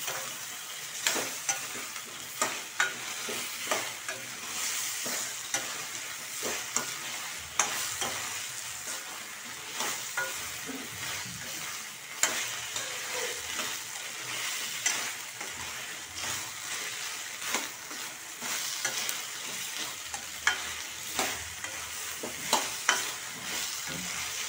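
Vada manchurian balls tossed and fried in a pan over high flame, with a steady close sizzle broken by frequent sharp scraping stirs of the spatula, and no voices.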